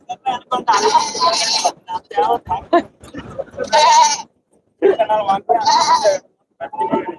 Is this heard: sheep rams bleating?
yes